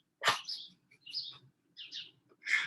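Small birds at a feeder on a fire escape give a few short, bright chirps in separate bursts with quiet gaps between them, fairly near and clear, with no talking.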